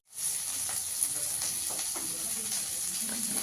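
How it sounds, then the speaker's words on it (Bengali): Green chillies frying in hot oil in a pan, a steady close hiss of sizzling with faint crackles and light utensil scrapes, no one talking. "কয়েকটা কাঁচা লঙ্কা দিয়ে দেবো। একটু ভেজে নেবো লাল লাল করে।"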